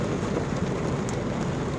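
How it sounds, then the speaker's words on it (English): Rain falling on a car window, a dense, steady patter of drops heard from inside the vehicle, close and continuous with no voices. "Just got here to my house and now it's starting to rain."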